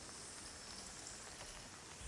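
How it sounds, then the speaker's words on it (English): Rain falls in a game world, a faint, even hiss of drops spread across the whole moment, with no voices over it. "And it's raining here too."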